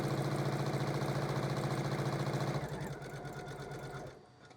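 Embroidery machine stitching an in-the-hoop appliqué quilt block, with a steady, close, rapid mechanical whirring and rhythmic needle chatter that eases and fades near the end.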